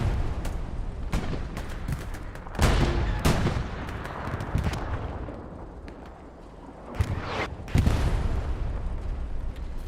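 Artillery rounds land in a Hell Let Loose battle amid scattered gunfire, giving heavy booming impacts and sharp cracks at close and middle distance, loud and repeated across the scene.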